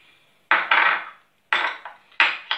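Flour and baking powder being mixed in a bowl while making a moist lemon sponge cake: three separate bursts of scraping, clattering strokes against the bowl, each fading out, with quiet pauses between them.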